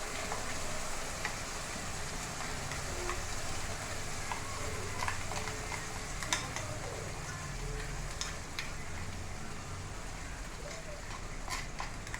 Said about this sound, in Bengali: মেয়ের মাছটা ভাজছি